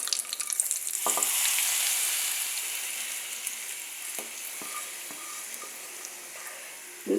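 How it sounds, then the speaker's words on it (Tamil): Mustard seeds, urad dal and curry leaves sizzle in hot oil for a South Indian tempering, a bright steady crackle with scattered small pops and spatters, loudest early and easing slightly, no talking. "கடுகு நல்லா வடிச்சிட்டு உளுத்தம்பருப்போட கலர் மாதிரி எடுத்து இப்போ ஸ்டவ் ஆஃப் பண்ணிவிட்டு கொஞ்சமாக கருவேப்பிலை சேர்த்துட்டு இதில் சேர்த்துடணும்"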